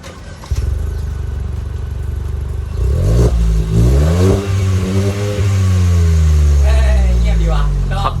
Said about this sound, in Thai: แป๊บหนึ่งเดี๋ยวเบิ้ลให้ดู